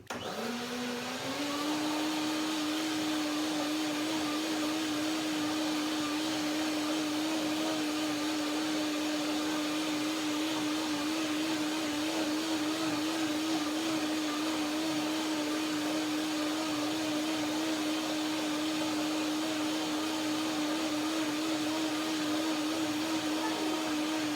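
A countertop blender whirs steadily and loudly, pureeing grapes, cashews, bananas, lemons and dates into a rich fruit-and-nut cream, its motor pitch climbing at the start then holding a continuous high drone throughout.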